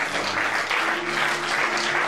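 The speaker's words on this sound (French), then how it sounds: "acclamons le Seigneur Jésus-Christ à ça" Church congregation applauding during a French-language Bible teaching service, a steady, dense wash of clapping that holds for the whole moment with a faint hum beneath it.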